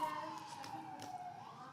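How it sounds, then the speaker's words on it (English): An ambulance siren passing outside during a town council meeting, a faint, distant wail that slowly rises and falls in pitch, muffled as if heard through walls and under room noise. "the ambulance crew goes by"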